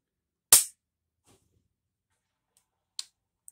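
A Tristar Upland Hunter 12 gauge over-under shotgun dry-fired, giving one sharp close metallic snap followed by a couple of quieter clicks in near silence.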